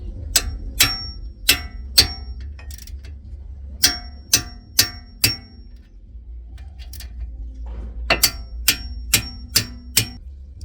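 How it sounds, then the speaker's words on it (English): Sharp metallic hammer strikes ring out in uneven clusters while tightening an Audi S4 brake caliper carrier, several quick blows then pauses, close and loud, with a quiet hum underneath. "I'm gonna use my trusted hammer."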